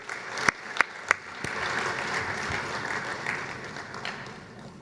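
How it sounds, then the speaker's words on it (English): A round of applause from guests at a capital raising platform launch event, a few sharp claps at first swelling into steady, moderately loud clapping that holds before gradually thinning out. "Can we also have a big round of applause for this big event today?"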